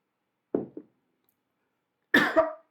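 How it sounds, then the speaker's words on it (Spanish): A short cough, then a louder, harsher double cough after a brief silence, close and clear with nothing else around. "Discúlpenme un minuto, ya me entró la tos."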